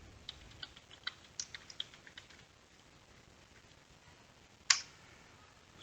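Light, quick keystrokes patter on a computer keyboard, then pause, followed by one sharper single key press near the end.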